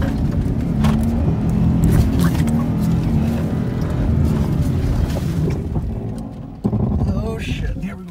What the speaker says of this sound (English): let's go try second gear again and just keep it going